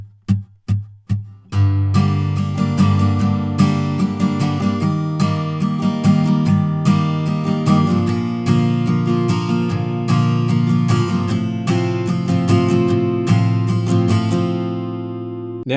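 Acoustic guitar strums through the verse chord progression of a song, full and close, after a few single plucked notes at the start; no voices.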